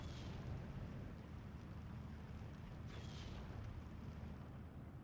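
A mortar barrage firing in the wartime strategy game Steel Division rumbles as a low, faint, continuous roar of distant explosions, with a few softer thumps rising out of it.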